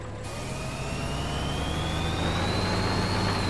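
A tractor engine in Farming Simulator 2013, heard while seeding fields, drones steadily and loudly with a low rumble and a slowly rising whine, with no talk over it.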